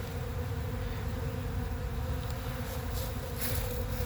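A steady, dense buzzing of many honeybees at a hive fills the air continuously, a low droning hum with no pauses or talking.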